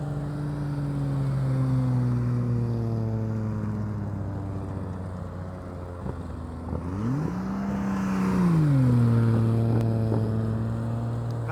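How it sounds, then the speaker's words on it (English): Honda Goldwing SS motorcycle engine at low speed in a riding practice session, a steady droning hum that dips, then revs up in a brief swell and settles back, close and continuous. "Love the way this motorcycle sounds."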